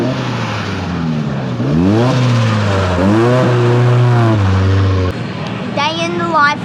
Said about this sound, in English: I noticed a very familiar looking 180 SX coming around the corner